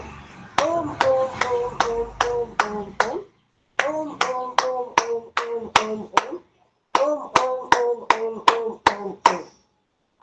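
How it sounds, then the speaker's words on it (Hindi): A group claps in unison during a yoga session, sharp even claps in three rhythmic bursts of about six to eight beats separated by short pauses, with a chanting voice sounding along with the claps. "चलिए पहले ताली वादन करते हैं।"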